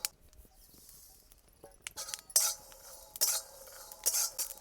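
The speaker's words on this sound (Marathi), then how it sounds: "शेंगदाणे भाजत आले तर आपण याच्यामध्ये तीळ टाकून घेऊ" Peanuts and sesame seeds dry-roasting together in a pan, stirred in scraping, clinking bursts that grow louder and more frequent toward the end, with no voices.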